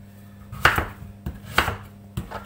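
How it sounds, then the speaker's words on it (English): Butternut squash being roughly chopped on a board for soup, with three sharp knife strikes spaced about a second apart over a low steady hum, close and clear with no talking. "Right, so I'm just going to chop this and chuck it in."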